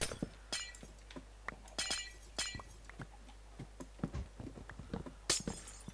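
Glass blocks shattering in Minecraft, a string of sharp breaking crashes and clinks spaced irregularly, fairly faint over a steady low hum, with no talking.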